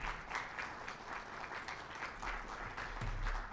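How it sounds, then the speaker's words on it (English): A classroom of students claps steadily and fairly softly for a few seconds, a dense patter of hands without cheering. "You're also welcome to clap."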